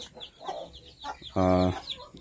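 Native chickens cluck softly on and off, then one gives a loud, drawn-out call near the middle, close by and with no one talking.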